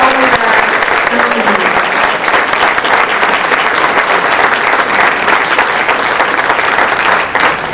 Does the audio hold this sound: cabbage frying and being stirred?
no